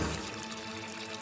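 Water pours steadily from a leaky pipe in an animated cartoon scene, a continuous splashing flow heard alone and fairly close for just over a second.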